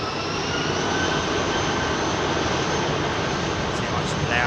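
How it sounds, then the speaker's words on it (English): An aircraft with IAE V2500 jet engines spools up at Heathrow, a loud, steady roar with a whining tone sustained throughout, close by and continuous. "See how much louder these V2500s are."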